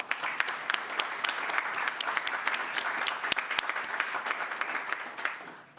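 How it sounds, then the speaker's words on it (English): Audience applause at an academic conference session on education in the early republic, a steady crowd of clapping hands lasting several seconds and tapering off at the end. "Let's give them a round of applause."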